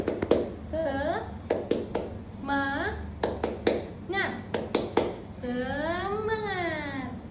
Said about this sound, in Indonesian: mari kita ice breaking dulu dengan tepuk semangat